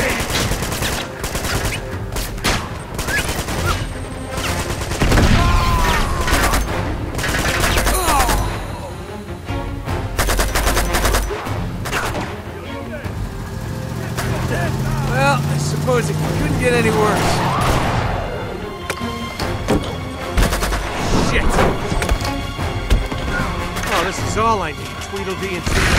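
Dense gunfire in the Uncharted 2 video game: rapid bursts of automatic fire, heavy booms and clanking mechanisms repeat throughout, mixed with a player talking over the action.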